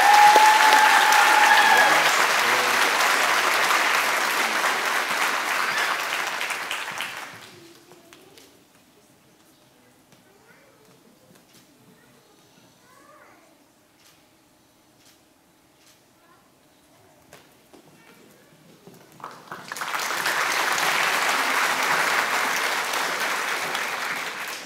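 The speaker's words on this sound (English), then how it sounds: "Let us give them a huge round of applause." A large audience at an education awards ceremony claps loudly in a sustained round of applause, which fades out to near silence midway and then swells back up into another strong, even burst of clapping.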